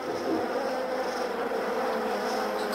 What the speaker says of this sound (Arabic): النحل يطاردنا